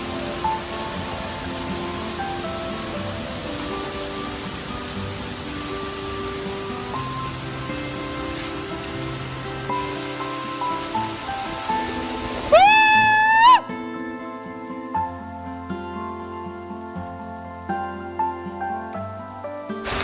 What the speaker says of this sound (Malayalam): കിടിലൻ മഴ വരുന്നുണ്ട്.